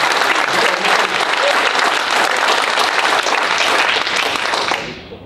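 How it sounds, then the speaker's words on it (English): A round of applause from the audience at a pre-budget forum in Singapore, dense and loud sustained clapping that fades out at the end. "How about a round of applause for Roy?"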